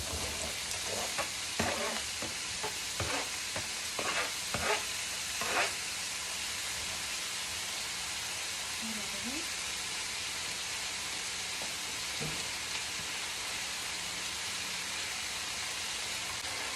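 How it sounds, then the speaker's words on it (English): Apples sautéing in olive oil in a home kitchen pan give a steady close sizzle, with a few sharp stirring scrapes over the first six seconds and quieter frying continuing alone. "So I gave that a stir"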